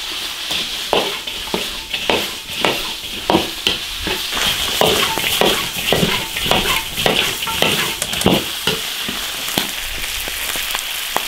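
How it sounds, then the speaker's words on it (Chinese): Eel and crayfish stir-fried hard in a wok with ginger, garlic, chillies and spices, giving a loud continuous sizzle with repeated scraping stirs and clinks in an irregular rhythm, close up and with no talking. "加鳝鱼、龙虾爆炒"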